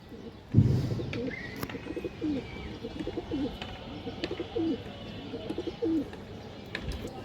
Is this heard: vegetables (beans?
no